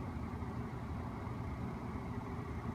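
Low, steady engine idle humming quietly and evenly throughout, with no other sounds standing out.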